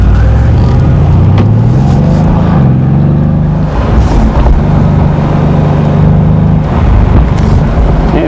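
A 2018 Mercedes-Benz C63S AMG in Sport Plus mode drives up a road, its exhaust droning loud and steady with the engine note rising and falling through gear changes, buffeted by wind noise.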